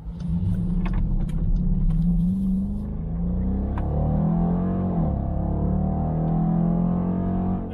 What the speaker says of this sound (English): I don't know how well you can hear that exhaust.